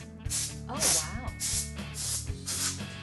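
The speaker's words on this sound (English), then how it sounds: "Tilt your laptop on its side, and you start to spray underneath the keys." A can of compressed gas duster hisses in several bursts as it sprays under the keys of a laptop tilted on its side. The bursts are close and steady, with a voice speaking briefly partway through.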